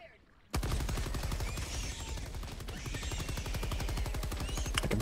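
Rapid automatic gunfire from a bug-shooting video game, a dense unbroken stream of loud, evenly spaced shots starting abruptly after a short quiet lead-in and running to the end.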